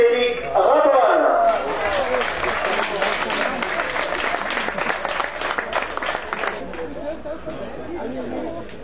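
Spectators at the Codognan arena clap in sustained, dense applause at a bull-games trophy event, loud and steady for several seconds before easing slightly, with crowd chatter mixed in.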